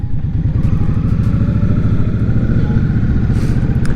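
A 2022 Indian Scout Rogue motorcycle rides along steadily, its deep, throbbing engine pulse continuous and loud throughout with no talking.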